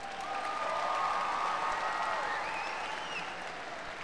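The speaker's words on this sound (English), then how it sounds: "let's give them all one big round of applause" Graduation audience at a high school commencement in St. Paul applauding steadily, a dense continuous wash of clapping with some faint cheering mixed in, moderately distant and sustained throughout.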